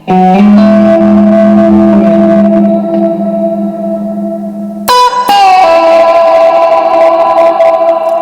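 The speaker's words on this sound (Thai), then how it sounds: "เซตไว้เสียงเดิมแต่เป็นรีเวิร์บ" Electric guitar run through a TANK G multi-effects unit on a reverb setting, loud sustained distorted chords with a washy reverberant tail, a new chord struck partway through, no speech.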